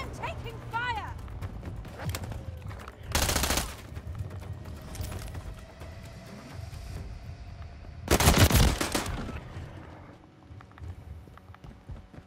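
Call of Duty gunfire in two loud bursts of automatic shooting, near and sharp, set amid ongoing game noise and background chatter.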